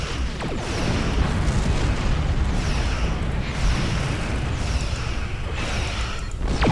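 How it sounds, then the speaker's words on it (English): High-yield torpedo blasts in Star Trek Online, a dense, loud rumbling roar of explosions and bursts that runs steadily the whole time, with repeated booming surges and no talk. "Torpedo high yield."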